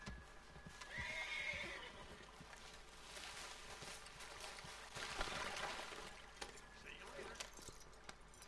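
A horse in the open-world game Red Dead Online whinnies clearly near the start. Clip-clopping hooves and small clinking, jangling sounds follow, with a second fainter whinny later.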